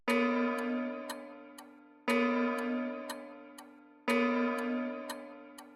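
A grandfather clock ticking, with loud, ringing metallic strikes about every two seconds that slowly fade, and softer ticks in between; no voices.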